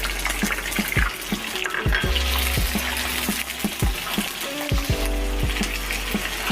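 Garlic ginger paste frying in oil with goat or lamb liver in a kaleji masala, a steady close sizzle broken by repeated sharp knocks of a utensil against the pan, with no talking.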